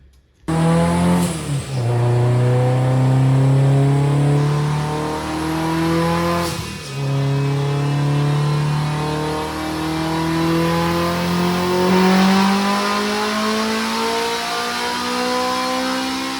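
A Honda Prelude engine under a tuning pull, revving hard through rising pitch sweeps with a brief shift dip midway, loud and close, climbing again to high rpm before easing off.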